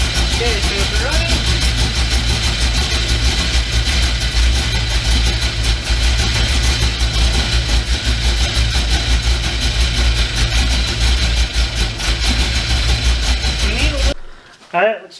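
A Ford drag truck engine runs steadily after its ignition is adjusted, a loud close rumbling idle with uneven pulses that cuts off abruptly near the end, with a voice speaking over it.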